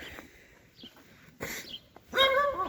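A farm dog gives a few soft whines and then a short yelping bark, close by outdoors near a shed, with faint rustling and scattered small noises between the calls.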